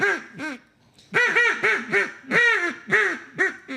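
A wooden duck call is blown in a series of close, loud quacking calls, several short bursts then a longer rapid run of descending quacks, with no talk.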